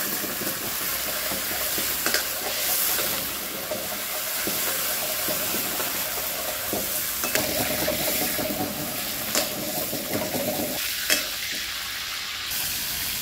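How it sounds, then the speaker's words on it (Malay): Five dried chillies frying in a little hot oil in a pan, giving a steady, loud sizzle and crackle throughout with occasional stirring scrapes, no voices. "Kita tumis dulu 5 biji cili kering."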